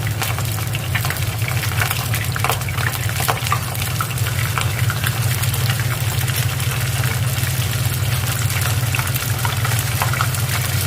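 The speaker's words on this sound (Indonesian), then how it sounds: "caranya untuk menggoreng ikan supaya itu tidak lengket, kita balik." Mackerel sizzles in hot oil in a frying pan, a loud, steady crackling hiss with a low rumble beneath it that carries on without a break throughout.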